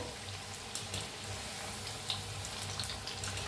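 Pieces of chapati fry in hot oil, giving a steady, fairly soft close sizzle with light bubbling and a few scattered crackles.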